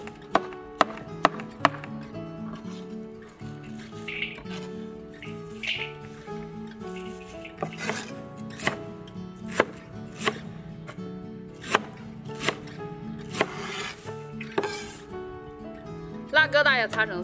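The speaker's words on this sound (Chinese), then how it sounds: "把叶子切碎" A knife chops cabbage leaves being prepared for pickling, a run of sharp, evenly spaced chops on a board, close and distinct, with a soft tonal background beneath.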